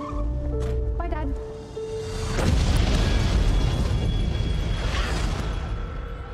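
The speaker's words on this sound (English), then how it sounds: "An explosion rocked the city today." A film trailer explosion for The Foreigner: a broad, heavy boom erupts mid-clip and rolls into a sustained roar of rumbling debris, loud and close, following tonal music at the start.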